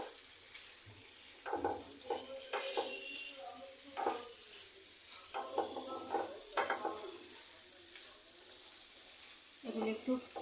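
Fried pointed gourd being sautéed in spice masala in a pan gives a steady close sizzle, with intermittent stirring scrapes, and no talk.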